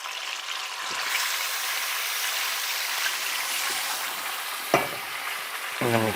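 Meat sizzling hard in a karahi on high heat, a loud continuous frying hiss with occasional clanks of a spoon stirring against the pan.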